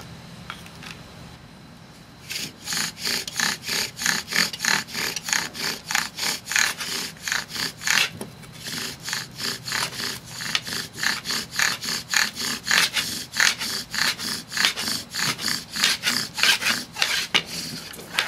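A wooden bow drill spindle grinds in its socket with steady back-and-forth rasping strokes, loud and close, after a couple of quieter seconds at the start.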